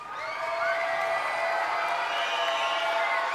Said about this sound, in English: Once again, round of applause for our intermediate orchestra.